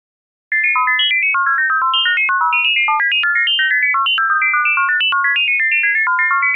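A Ghost Tones otoacoustic-emissions synth plays a rapid, steady stream of short, pure, high-pitched beeping notes that jump between pitches in a fast arpeggio, starting abruptly after a moment of silence and continuing evenly.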